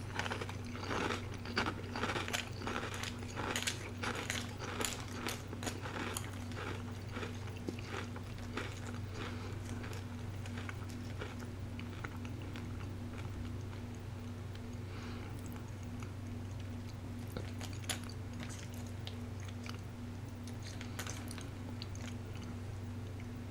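Magic Spoon cereal eaten up close, with steady crisp crunching and chewing that grows sparser and softer over time, alone over a low air-conditioner hum.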